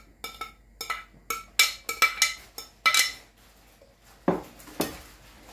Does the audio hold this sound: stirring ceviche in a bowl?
yes